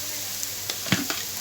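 Dried mulukhiyah with a Maggi cube sizzles in a pan as it is stirred gently, a steady soft frying hiss with a few faint scraping taps from the spoon.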